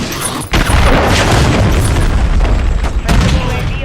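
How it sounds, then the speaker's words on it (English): In a Call of Duty match, a cruise missile explodes: a sudden heavy boom hits, then a dense roaring rumble holds steady, and a second sharp burst follows near the end. "Friendly cruise missile deployed."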